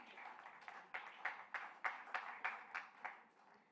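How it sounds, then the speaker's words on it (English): Audience at a business summit award presentation in Bengaluru applauds with a steady round of clapping, moderately distant, swelling slightly and then holding an even rhythm. "A huge round of applause"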